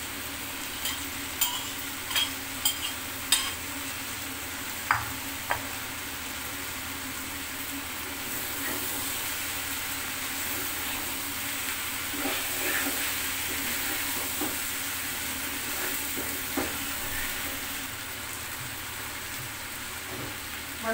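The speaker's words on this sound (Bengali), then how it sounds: "এখন ভেজে রাখা পেঁয়াজ আর রসুন দিয়ে নেড়ে চেড়ে নামিয়ে দিব।" Spinach and eggplant with fried onion and garlic are stirred in a pan, a steady frying hiss running throughout with light scraping clicks from the stirring, close and moderately loud.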